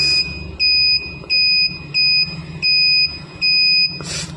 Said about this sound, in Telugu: ఇది గ్లో అయ్యి అప్పుడు బజర్ సౌండ్ కూడా వస్తుంది